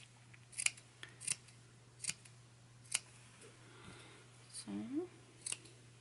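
Scissors snip into the fabric seam allowance along the inner curve of a sewn peaked cap, a series of crisp, separate clicks spaced about a second apart, close up, with brief speech near the end.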